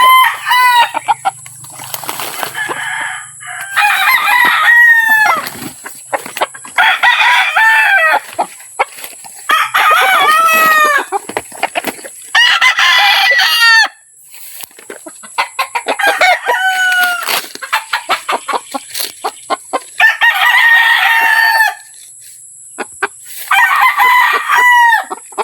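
Young roosters on a farm crow over and over in loud, close, drawn-out calls, with clucking between them and a steady high hum in the background.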